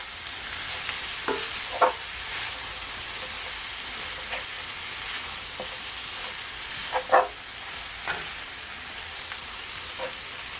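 Cabbage frying in a pan and being stirred, a steady soft sizzle with occasional scraping clinks of the utensil against the pan, close and fairly quiet with no talking.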